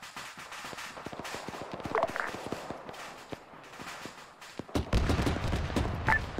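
A missile launches with a sudden heavy blast near the end, in the military shooter Arma 3, following a stretch of scattered faint clicks and distant pops.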